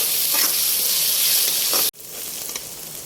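Onions fry in a pan for prawn thokku with a loud, close, continuous sizzle that cuts off sharply for an instant and then resumes a little softer.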